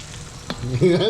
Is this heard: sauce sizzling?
yes